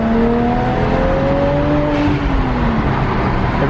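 A single-turbo BMW 335i runs on a dyno, its engine droning loudly and steadily with rising and falling tonal pitch sweeps as it revs, the note continuous throughout without talk.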